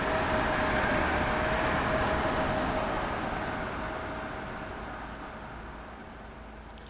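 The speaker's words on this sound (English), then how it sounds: "Let's try to throw the train into full power." A Train Sim World locomotive on the Northeast Corridor between Boston and Providence accelerates at full power, a steady loud rumbling roar of traction noise and rolling wheels that slowly eases down over several seconds.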